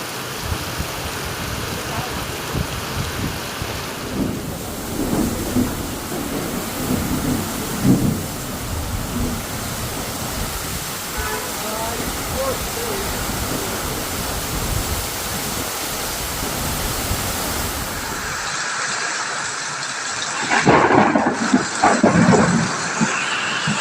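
Torrential cloudburst-like rain pours steadily in Otur with rumbling thunder, a dense continuous roar that swells into a loud, close thunderclap near the end.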